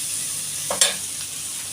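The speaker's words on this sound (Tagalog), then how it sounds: "halo-haloin muna natin hanggang lumambot pa yan" Bitter gourd with shrimp paste frying in a pan, a steady loud sizzle broken by a brief scraping stir of the spatula partway through, close and without voices.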